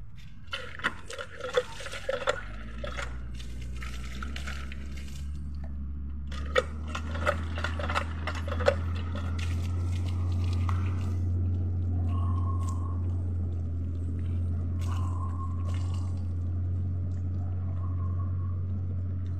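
Water splashing and pouring while someone bathes outdoors: a run of irregular splashes and scoops early on, then a steady running-water flow with a low rumble, occasional splashes returning later.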